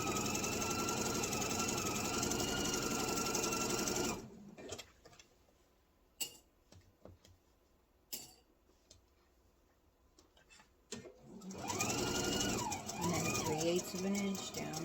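A sewing machine stitches apron fabric with a steady close mechanical whir, stops for a few seconds of quiet handling clicks and pivoting, then starts up again; a voice speaks in between.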